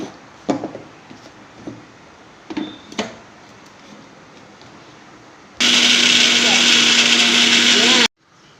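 A few scattered knocks and handling clicks, then a mixer grinder roars loud and steady for about two and a half seconds, grinding a chutney of chilli, tamarind, coconut and garlic, before cutting off abruptly.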